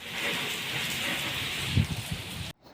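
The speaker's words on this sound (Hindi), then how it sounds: "तो मूसलाधार बारिश हो रही है" Heavy monsoon rain pours down in a village as a steady, dense hiss, with a few louder thuds of water near the end before it cuts off abruptly.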